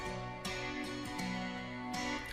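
An acoustic guitar strums chords through an Arturia Chorus JUN-6 chorus plugin, giving a shimmering, slightly wavering tone, played steadily and up close with no voices.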